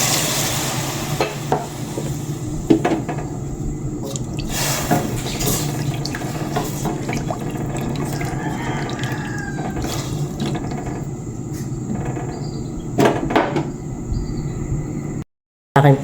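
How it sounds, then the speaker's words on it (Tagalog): Water is poured and stirred into a cooking pot of sautéed native chicken meat for lugaw, a continuous close splashing and sloshing with occasional clinks of a utensil, broken by a brief gap near the end. "Ayan, nilagyan ko na po yan ng tubig."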